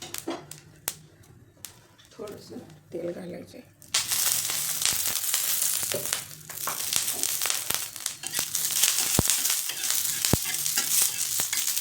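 Ten to twelve split green chillies roasting in a pan: after a few seconds of quieter handling, a loud, steady sizzle starts and continues, broken by sharp taps and stirring noises close by.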